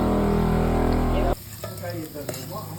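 Shrimp hit a hot wok for a Thai stir-fry and erupt in loud, dense sizzling that cuts off abruptly after about a second, leaving quieter clinks and scraping of stirring.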